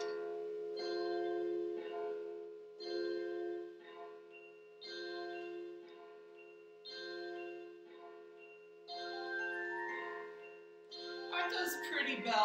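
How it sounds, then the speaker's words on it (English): Pretty ringing bells in a sequence of sustained, resonant tones, each strike blooming and decaying in a slow repeating pattern, with a busier cluster of chimes toward the end. "Aren't those pretty bells?"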